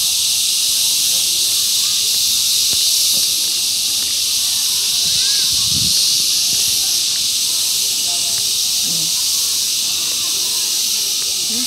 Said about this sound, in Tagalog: Naririnig nyo ba yun? Sobrang ingay ng mga kuliglig.